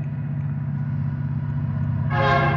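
Union Pacific locomotive UP 9924, leading a northbound train, sounds its horn: a deep steady chord holding throughout, growing louder and brighter near the end over a low rumbling engine.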